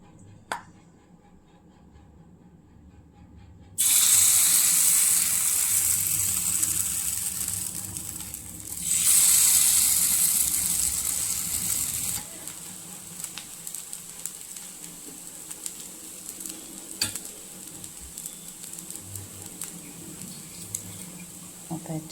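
Appe batter made from poha and semolina hits a hot oiled appe pan, setting off loud close sizzling in two bursts that settles into a quieter steady crackle with occasional light pops.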